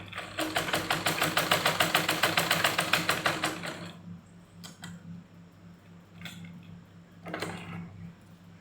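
A sewing machine stitching salwar fabric runs in a rapid, even mechanical rhythm for about four seconds and then stops, followed by a few faint handling clicks and rustles of cloth.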